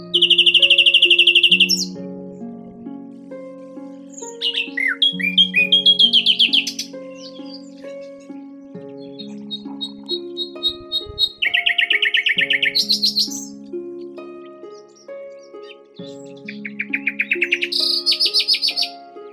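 A nightingale's song plays loud and close, with varied whistles, trills and rapid chirping phrases separated by brief pauses, with no voices.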